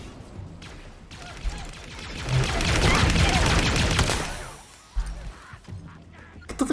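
Grenade blasts and gunfire in the Halo Infinite open world come as a dense, loud burst of crashing detonations that build and peak mid-clip, then ease into scattered sharper pops and impacts.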